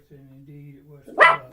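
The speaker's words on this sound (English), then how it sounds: "That's my dog." A dog in the room gives a single sharp bark near the end, loud and close, after someone speaks steadily in a low voice.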